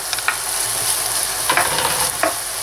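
Garlic and onion sauté with browned ground meat for a zucchini lasagna, a loud, dense frying hiss filling the clip, broken by a few short scraping stirs of the spoon against the pan.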